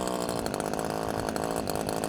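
A cold Pro Yama chainsaw engine runs at a loud, steady, buzzing idle just after starting, warming up close by with a slight rough flutter and no talking.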